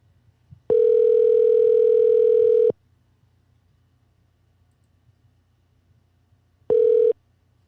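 A telephone dial tone sounds during a call-back: a steady, loud, clean tone holds for about two seconds, then after a quiet gap returns for a short half-second burst. Nobody speaks.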